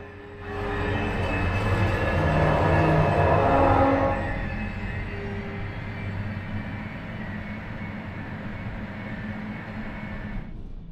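Inside a new Polish-built express intercity train, the carriage rumbles and hums steadily with a low wheel-on-rail drone, swelling louder for a few seconds before settling into a quieter, constant running noise.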